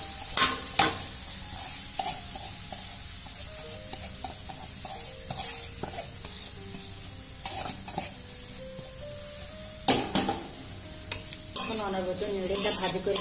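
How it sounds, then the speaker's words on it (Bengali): Finely chopped carrots frying in hot melted butter for carrot halwa, with a loud continuous sizzle, repeated utensil scrapes and clatters against the pan, and a sharper burst of crackling near the end. "বাটারটা আমার গলে গেছে আর গরম হয়ে গেছে, এখন এই কুচি করে রাখা গাজরগুলো এর ভিতরে দিয়ে দেবো।"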